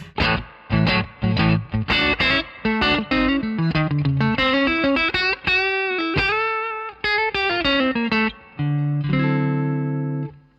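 Electric guitar miked with a Sennheiser MD421, playing a sequence of distorted, chorus-tinged chords and single-note phrases, loud and close with short gaps between strums, ending on a sustained low chord.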